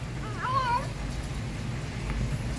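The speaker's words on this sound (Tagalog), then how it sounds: "Kumakain na nga, ngawa pa ng ngawa." A cat meows once while eating, a short rising-falling cry up close over a steady low background hum.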